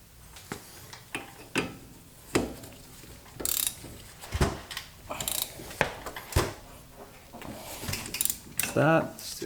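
A ratchet clicks in irregular bursts while tightening the bottom brake caliper bolt during a brake pad change, with metallic clanks of tools between the clicking and some speech nearby.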